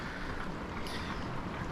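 Strong wind with driving rain outside a mountain shelter during a storm, a steady loud broadband roar and rush with no breaks, muffled as if heard from indoors with the door closed.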